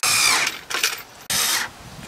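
A small handheld electric screwdriver whirs in two short bursts, close and loud, with brief gaps between them, while driving screws during a trailer harness install on a Kia Soul.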